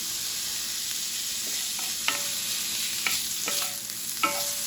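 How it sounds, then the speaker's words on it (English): Bacon frying in a pan for Southern fried cabbage: a loud, steady sizzle and crackle close by, broken by several sharp utensil knocks and scrapes against the pan, with no talking. "what we want to do is get our bacon going"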